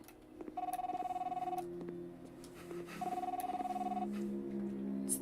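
A telephone rings inside the video game The Fidelio Incident, two long buzzing rings separated by a pause, set against low ambient game tones, with no talk over it.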